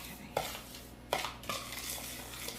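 A spoon stirs a green matcha chocolate bar mixture in a bowl, making a soft continuous scraping swirl close by. Two brighter knocks against the bowl's side stand out.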